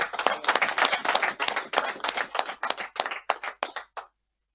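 A crowd at a political speech bursts into applause, dense clapping that starts loud, then thins into scattered claps and stops abruptly after about four seconds.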